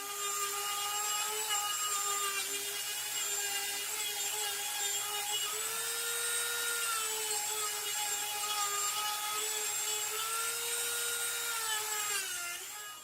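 A rotary tool whines steadily as it sands down a briar wood pipe carved as a flying squirrel, a close, continuous high-pitched drone with slight shifts in pitch lasting throughout.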